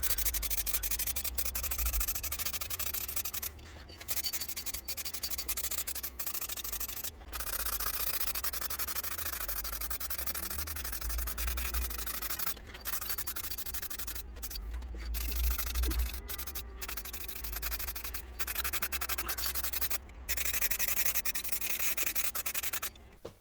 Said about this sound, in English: it's filler primer, so I can rub it back a bit and hopefully get a nice smooth surface